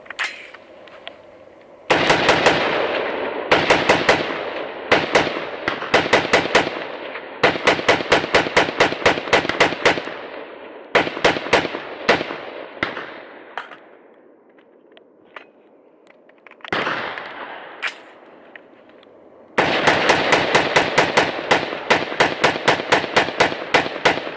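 A Noveske rifle fired rapidly during a torture test: long strings of sharp, loud shots in fast bursts and runs, separated by brief pauses with ringing echoes.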